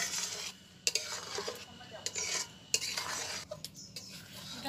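A spoon scrapes and clinks against a pot of milk with cardamom boiling on the stove, with irregular metallic knocks and a soft bubbling hiss between strokes, close and moderately quiet.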